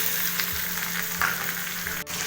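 Tomatoes frying in hot oil with onion, chilli, garlic and curry leaves for a tomato chutney, giving a steady close sizzle with a few soft stirring scrapes and no voices.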